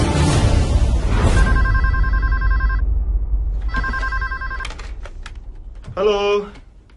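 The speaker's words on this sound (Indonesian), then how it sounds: "Mbak, ada telepon." A telephone rings in an office scene in an Indonesian film. Two clear electronic ring bursts sound close and loud, and a third short burst follows, with speech and keyboard tapping around them.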